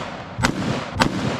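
Two sharp, loud gunshots about half a second apart from a Mark 18 rifle with a 10.4-inch barrel firing 62-grain M855 green-tip rounds, each a short crack with a brief echoing tail.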